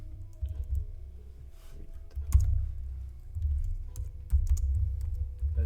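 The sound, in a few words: typing on a computer keyboard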